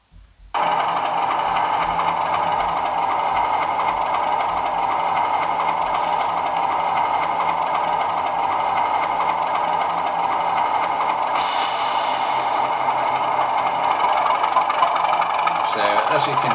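Bachmann Class 37 model locomotive in Colas livery driving with a sound decoder, a steady loud diesel engine drone throughout with brief higher hiss bursts, close and continuous.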